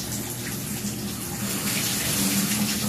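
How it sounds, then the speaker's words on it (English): A faucet runs in a steady, close rush, its water pouring straight down an open drain with an even hiss throughout and no voices. "we're gonna open up the drain there, make sure the water goes down, turn it on"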